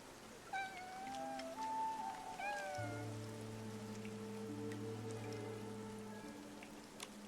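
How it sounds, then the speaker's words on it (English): Soft, steady rain patters in the background of the video game Infinity Nikki while a cat meows several times in drawn-out, wavering calls, with a low tone droning underneath. "Nikki, it looks like it's going to rain."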